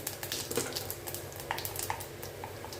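Small mustard, fennel and fenugreek seeds hitting hot oil in a clay pot, giving a soft, close sizzle with faint crackles and light pops.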